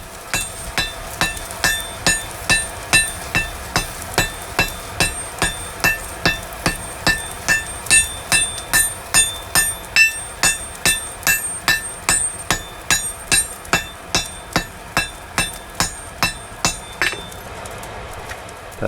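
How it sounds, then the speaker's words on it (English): A hammer striking a hot steel stack to forge weld a San Mai knife billet: steady, evenly spaced ringing metallic blows, about three every two seconds, loud and close with no talk, tapering off at the end. "The stack is then forge welded into a single solid billet."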